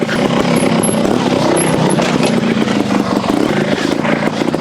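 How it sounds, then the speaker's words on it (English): Engine noise from a 2023 Sherco STR 300 trials motorcycle with a lightened crank, a loud, steady, rough mechanical drone held throughout with no clear rev rises. "It revs up really quickly because of that lightened crank, almost like motocross style"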